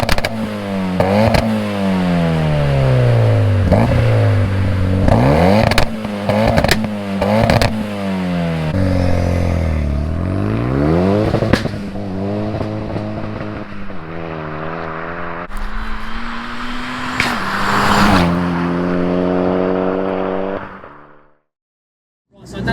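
An engine-swapped Renault Clio 182 with a roughly 280 bhp Megane engine revs hard and accelerates through several gear changes, heard from inside the stripped cabin as loud rising and falling engine tones, ending with a sharp cut to silence.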